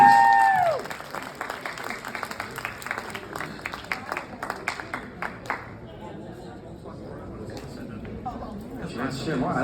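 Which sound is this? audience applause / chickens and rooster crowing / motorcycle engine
audience applause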